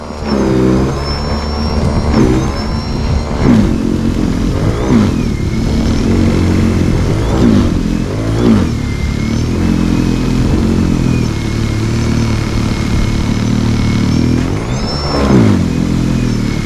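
An EGO SNT2100 56V electric cordless snow blower churns through heavy snow, its motor whining loud and close, with the pitch repeatedly dipping and rising as the load bogs it down.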